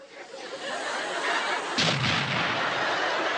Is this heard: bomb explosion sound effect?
yes